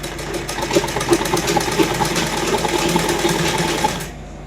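A sewing machine stitches a suit's lining in steady, rapid runs, loud and close with no talk over it, then stops abruptly just before the end.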